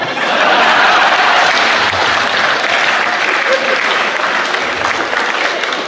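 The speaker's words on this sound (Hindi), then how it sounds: "ये तालियां बजाने वाली बात नहीं थी," Audience at a Hindi comedy poetry show (hasya kavi sammelan) applauds, a dense, loud, sustained clapping that fills the whole stretch evenly without a break, heard alone with no voice over it.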